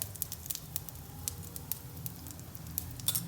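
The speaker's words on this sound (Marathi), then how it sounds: "आधी मोहरी घालती आहे फोडणी छान तडतडली आहे" Faint crackling and popping of mustard seeds sputtering in hot oil, scattered quick pops over a low steady hiss.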